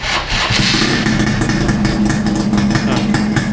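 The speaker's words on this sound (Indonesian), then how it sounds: "Suaranya kita tes dulu ya. Ini starter ya" A Suzuki Satria motorcycle engine, running an original exhaust with an open filter whose insides are removed, fires up and revs hard, a loud, close, raspy roar with rapid pulsing throughout.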